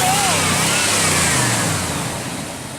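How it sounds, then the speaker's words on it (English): Car engine revving, freshly fitted with a new alternator, a loud close roar that swells and then winds down over a few seconds. "Rev it again."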